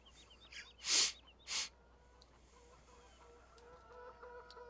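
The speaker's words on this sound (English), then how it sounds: "looks like we have our chickens over here" Chickens in the Farming Simulator 17 video game give two loud bursts of clucking close by, followed by softer scattered bird calls over a quiet ambient farm background.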